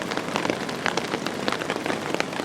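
Rain drumming on a tarp while backpacking, a dense, close patter of irregular drops with sharper taps scattered throughout, steady and unbroken with no voices.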